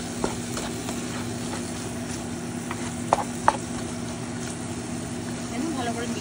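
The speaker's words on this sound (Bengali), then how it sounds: "মশলাটা মিশিয়ে নেব।" String beans and masala are stirred in a pan with soft scraping and a low sizzle under a constant background hum, plus a couple of sharper utensil knocks near the middle.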